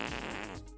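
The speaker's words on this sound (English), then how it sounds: "Stinkor, have you farted?" A short, loud fart sound effect plays in a Stinkor toy comedy skit, a single sputtering blast lasting under a second.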